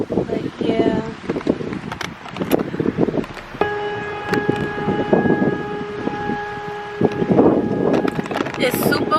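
Strong outdoor wind buffets the microphone in rumbling gusts, with a steady droning tone partway through, while a person talks over it.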